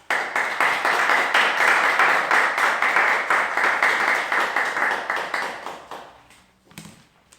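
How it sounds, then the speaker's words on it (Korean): Church congregation clapping during a Sunday service to welcome a guest lecturer, a dense sustained round of applause that holds steady for several seconds, then fades out near the end. "나오실 때 큰 박수로 환영하도록 하겠습니다"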